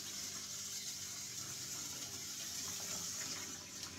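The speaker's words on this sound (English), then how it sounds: "So you can put quite a bit of water in there before it even reaches anywhere near them" Filtered water pouring steadily from a jug into a plastic rice washer holding a cup of rice, a continuous close splashing stream for the whole stretch with no talk.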